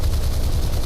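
Fire from the 20mm autocannon of an MBT 70 tank in War Thunder makes a loud, dense roll of rapid shots that merge into a continuous low, thumping burst under a second long.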